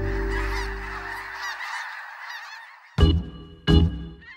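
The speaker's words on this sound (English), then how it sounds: "Snow geese," Snow geese honk loudly and nearby in a noisy chorus, then after a brief lull two more sharp, loud honks ring out close by.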